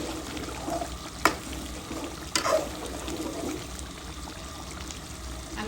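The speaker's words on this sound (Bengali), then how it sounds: "কষতে থাক।" Chicken gizzard fries in a pan with a little added water as a spoon stirs it, giving a low, steady sizzle with a couple of sharp scrapes and clinks against the pan.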